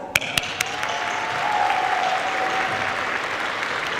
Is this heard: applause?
yes